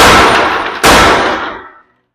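At a trade museum, a soft lead coin is struck to mint money in two loud, sharp metallic clangs in quick succession, close up, with a short ringing decay and then silence.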